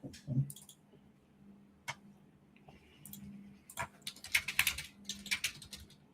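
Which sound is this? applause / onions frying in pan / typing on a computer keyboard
typing on a computer keyboard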